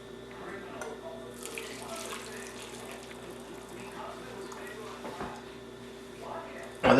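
Hot brine of white vinegar, water and coarse salt is poured into jars packed with green beans, making a steady trickling splash that runs the whole time under a person talking.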